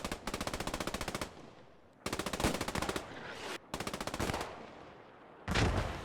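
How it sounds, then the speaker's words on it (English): Bursts of rapid machine-gun fire ring out in the World War II shooter Post Scriptum, three long rattling strings of shots broken by short pauses, then a single sharp blast near the end. The firing is loud and fairly close. "Just too many shots coming in from multiple angles."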